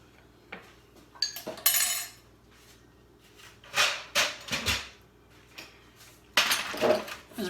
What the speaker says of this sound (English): bring over my little puto pans,